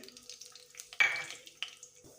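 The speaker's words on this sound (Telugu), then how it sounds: "ఆయిల్ కాస్త వేడెక్కగానే ఇందులోనే పోపు గింజలు వేసుకోండి" Mustard-type tempering seeds hit hot oil in a pan with a sudden loud crackling sizzle that then settles into a steady fizz, with a few clinks of a utensil; no talking.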